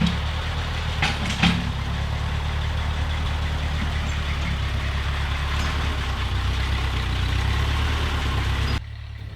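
An old 1940s tractor engine runs at a steady low idle during road repair and trail clearing, a continuous rumble with a few sharp knocks early on before the sound drops away at the end.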